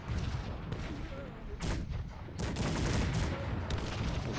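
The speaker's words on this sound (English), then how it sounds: "Oof, a lot of firing back and forth there anyway." Cannon and musket fire rattle through a battle in Cossacks 3, dense overlapping volleys and bursts of shots crackling continuously at moderate distance, with a voice faintly underneath.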